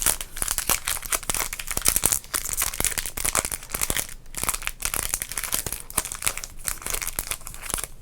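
Sports card pack wrappers, 2021 Topps Big League Baseball, crinkle continuously and close up in a dense, steady stream of rustling with brief pauses, no voices.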